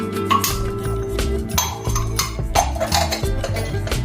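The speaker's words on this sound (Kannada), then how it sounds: "2 ಟೇಬಲ್ ಸ್ಪೂನ್ಸ್ ಅಷ್ಟು ಎಣ್ಣೆ ಹಾಕಿದ್ದೀನಲ್ಲ, ಅದನ್ನ ಹುರ್ಕೊತೀನಿ" Makhana (fox nuts) roasting in about two tablespoons of oil in a pan, with frequent clinks and scrapes of a utensil against the metal over steady background music.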